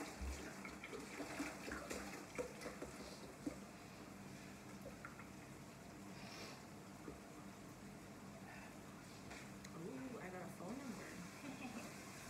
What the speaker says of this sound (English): We're pouring the milk so we can make the dip.